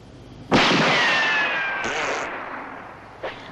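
A single loud gunshot in a western film cracks out sharply and rings with a long decaying whine, followed by a fainter, shorter report about three seconds later.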